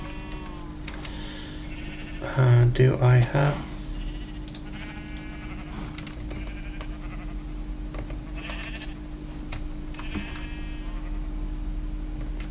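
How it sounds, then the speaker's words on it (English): Sheep bleat in a pen in Minecraft, with a loud cluster of several bleats early on and further softer bleats later, over a steady game background hum and a brief spoken question. "Yes, I did build a separate pen for the sheep."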